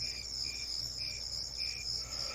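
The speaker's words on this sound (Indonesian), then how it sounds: "jangkrik yang tadi bunyi sangat keras dan tiba-tiba terdiam" Crickets chirp steadily in a high, continuous trill, with a pulsing chirp repeating about every half second over a low background hum; no voices.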